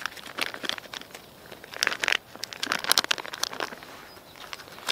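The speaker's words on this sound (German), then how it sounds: "jetzt habe ich hier auch, wie vorhin schon gesagt, meine Tüte hier griffbereit" A plastic bag crinkles and rustles in irregular bursts as it is handled outdoors during winter zander and perch fishing, close and fairly quiet, with no speech.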